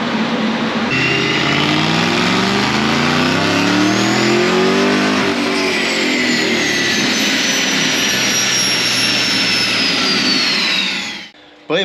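A Dodge Challenger Hellcat V8 roars in a loud, sustained rev that climbs and wavers in pitch for about ten seconds, then cuts off abruptly, followed by a brief mechanical clunk.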